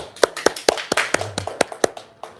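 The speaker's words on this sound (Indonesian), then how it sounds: "Tepuk tangan dulu dong." A small group claps in response to a talk, producing a brief run of distinct, sharp hand claps in a loose, uneven rhythm with no voices.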